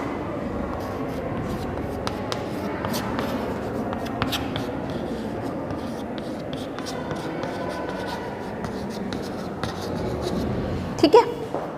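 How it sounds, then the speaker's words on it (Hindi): A pen scratches a handwritten maths answer on paper in a steady, continuous stream of close, soft strokes that lasts throughout. Near the end there are a couple of sharper taps. "यहाँ लिख देती हूँ मैं।"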